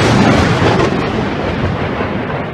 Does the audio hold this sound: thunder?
yes